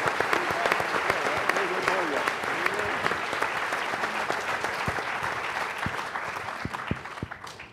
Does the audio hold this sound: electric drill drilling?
no